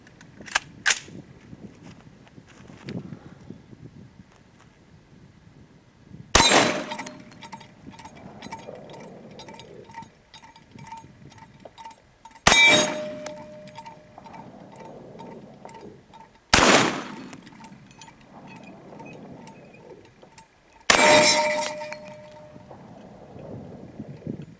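.50 Beowulf rifle shots ring out outdoors at steel gong targets, four loud sharp blasts spaced several seconds apart, each followed by a ringing metallic tone and decaying echo.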